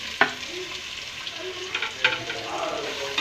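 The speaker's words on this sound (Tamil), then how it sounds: "வெங்காயம் நல்லா எண்ணெயிலே நல்லா வதங்கட்டும்." Onions fry in oil with spices, a soft, even sizzle with a few sharp clinks and scrapes of stirring scattered through.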